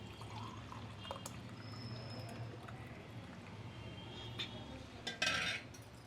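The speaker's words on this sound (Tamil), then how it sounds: "ரெண்டு கிளாஸுக்கு கொஞ்சம் கம்மியாக பால் விடுறேன்" Milk being poured into jaggery for a millet payasam, a quiet, steady liquid pour over low kitchen background noise, ending with a brief brighter splash and clink of utensils.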